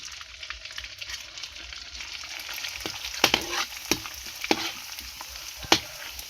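A Thai snack deep-fries in hot oil with a continuous close hiss, broken by sharp crackles and pops that grow more frequent toward the end.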